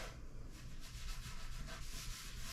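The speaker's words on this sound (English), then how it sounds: "I sanded the corners down to where they're a little bit smoother" Sandpaper rubs over the corners of a wooden countertop in a cargo trailer camper conversion, a steady, close, fairly quiet rasping with a brisk back-and-forth rhythm and no speech.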